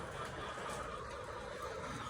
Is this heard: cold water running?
no